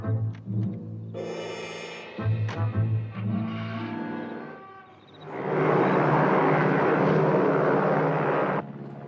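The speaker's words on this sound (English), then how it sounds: "Very powerful plane." A powerful plane's engines rumble and whine, starting with uneven low droning pulses, then swelling into a loud, steady roar of thrust that holds for several seconds before cutting off.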